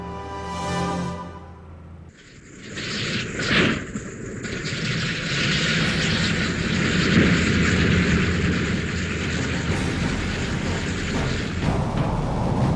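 World War II B-17 bomber aircraft engines: a steady, loud, broad droning roar builds after a brief tonal start and holds, heavy and continuous, with no talk.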